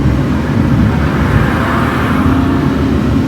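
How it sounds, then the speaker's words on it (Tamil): A heavy-load truck passes on a hill road in the Burgur hills near Erode, giving a loud, steady low engine rumble and road roar that stays close throughout. "ஹெவி லோடு வண்டி இது வந்து கர்நாடகா போகுது, மைசூர் போகும்னு நினைக்கிறேன்."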